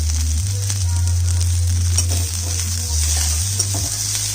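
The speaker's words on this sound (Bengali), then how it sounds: "পেঁয়াজটা হালকা ভাজলাম লাল করে" Steady frying sizzle of onions in hot oil, with a constant low hum underneath and occasional stirring scrapes, close up and unbroken.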